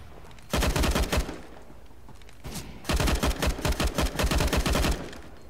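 Gunfire in the video game CS:GO: rapid bursts of automatic shots in two clusters, a short rattle followed by a longer sustained string of sharp cracks, fairly close and punchy with no talk over it.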